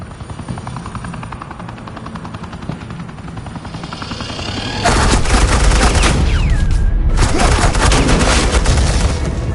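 A steady rotor-like drone from the Telltale Batman game, then a sudden loud wall of suppressing gunfire and impacts that stays dense and intense to the end.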